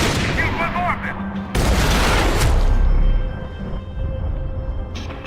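Gunfire in the video game Max Payne 3, with a dense volley of shots and heavy booming impacts rising to a loud sustained burst, then fading into a ringing tail, with voices speaking over parts of it.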